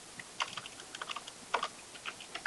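Quiet, close keystrokes on a computer keyboard come in irregular bursts and single taps, soft clicks with short pauses between them.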